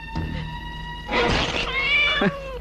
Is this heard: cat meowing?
yes